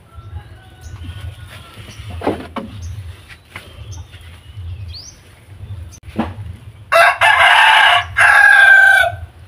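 A sick mother hen makes a few soft clucks and calls in a quiet yard, followed near the end by two loud bursts of bird squawking.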